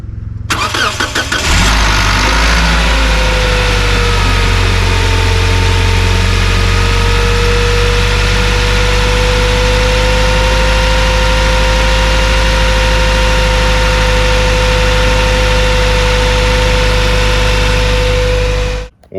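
The engine of a homemade camper van starts after days of sitting and settles into a loud, steady idle, a continuous low rumble with a constant hum, close up and unbroken until it cuts off.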